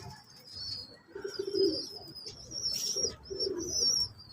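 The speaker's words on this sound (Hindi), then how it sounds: "ये कुछ जोड़े वाले कबूतर हैं" Paired pigeons cooing on a rooftop, a series of soft, close, throaty coos with faint chirps and a high background whistle, no voices.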